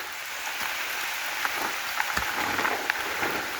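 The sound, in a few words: heavy rain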